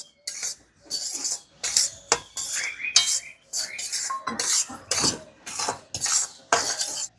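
A spoon scrapes and clatters against a metal pan while semolina is stirred together with milk powder off the heat, in a quick series of close, rhythmic strokes with short pauses between them.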